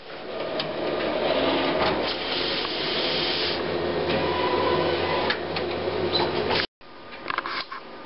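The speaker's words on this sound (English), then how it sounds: "You hear the machine firing up, and it's now going to run a printhead alignment." An HP DesignJet 1050 large-format printer running a printhead alignment whirs and hisses steadily up close, with small clicks throughout and a brief silent gap near the end before the mechanism resumes.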